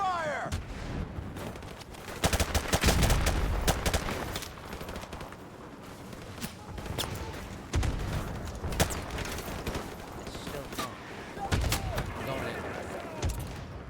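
Call of Duty Modern Warfare battle gunfire, repeated sharp shots and bursts scattered over many seconds with heavier booming volleys, loud and close, with voices talking intermittently.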